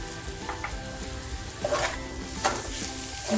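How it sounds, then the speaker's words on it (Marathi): Green chillies, garlic and coriander sizzle and fry in a pan, a close steady crackle broken by a few scrapes and stirs of a spoon. "हे मस्त आपल्याला फ्राय करून घ्यायचं आहे"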